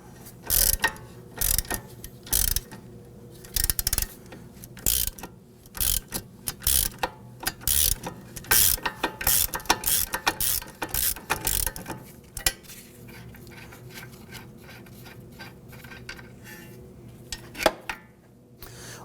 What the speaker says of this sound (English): what we're going to use is a Torx bit to hold the center and our wrench to go ahead and spin off the nut